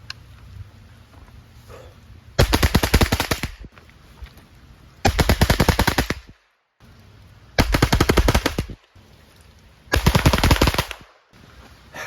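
An automatic firearm fires four long bursts of rapid, loud, close gunfire, separated by pauses filled with outdoor background noise.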